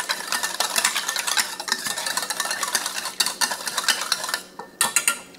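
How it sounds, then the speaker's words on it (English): Whisk beating ingredients for shrimp lo mein in a bowl, a rapid continuous scraping and clinking of wire against the bowl, close and fairly loud, ending in a few separate taps with no talking. "So just get that whisk up pretty good."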